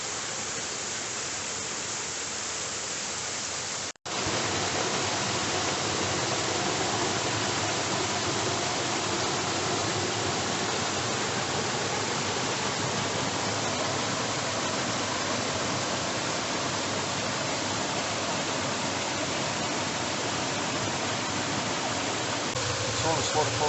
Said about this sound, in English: Tallest waterfall in North Yorkshire.